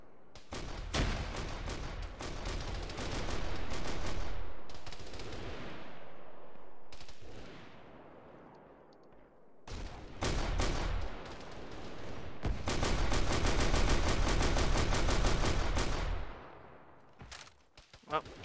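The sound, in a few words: bombardment and gunfire in a video game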